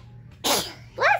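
Two sharp, close sneezes from a person indoors, a forceful burst followed by a shorter second one about half a second later, with no talking.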